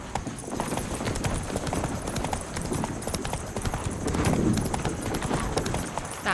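Roach the horse gallops in The Witcher 3, fast rhythmic hoofbeats pounding steadily and close, with a faint voice briefly underneath.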